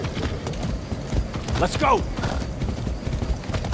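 Horse hooves clip-clopping at a gallop in the video game Far Cry 6, a steady rhythmic beat under loud, excited male speech and game sounds, with a brief whinny-like call in the middle.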